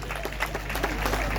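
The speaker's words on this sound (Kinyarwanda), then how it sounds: "Amashyi menshi cyane." Audience applause at a concert where a performer sang before the head of state, steady dense clapping under a low hum, with some crowd noise mixed in.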